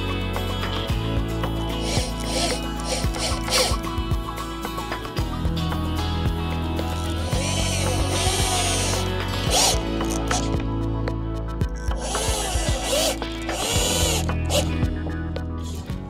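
Bolts are tightened with a power tool while a wooden chair is assembled, bringing repeated whirring, ratcheting bursts up close, with brief pauses between runs and no talk.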